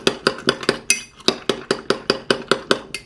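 A utensil clinks rhythmically against a bowl while beating egg with crushed ramen pieces, giving about a dozen quick, close, bright taps at a steady pace.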